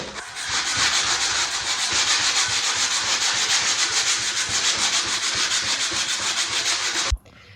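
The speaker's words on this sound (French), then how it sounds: "Sur le mélaminé, on peut poncer comme ça sur les bords afin de les rendre plus arrondis." Melamine board edges being sanded by hand, giving a steady, loud, continuous rasping scrape that runs for about seven seconds and then stops abruptly.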